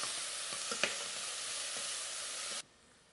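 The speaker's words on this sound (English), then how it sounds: "now that our onions are getting a little saute going" Onion sautéing in a pan for collard greens and black-eyed peas, a steady close hiss and sizzle with a few light stirring ticks, cutting off abruptly near the end.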